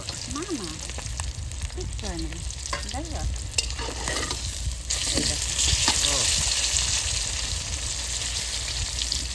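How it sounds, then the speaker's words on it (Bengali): Chitol fish fries in a pan with a steady, loud sizzle and occasional stirring scrapes, the hiss swelling stronger partway through, while people talk over it. "আচ্ছা একটু কড়া বাজাই লাগবে"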